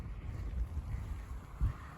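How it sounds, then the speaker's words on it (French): Outdoor wind during passing spring showers at Doue, a low gusty rumble buffeting the microphone, steady for two seconds with a stronger gust near the end and no speech. "Voilà, donc on a du vent là"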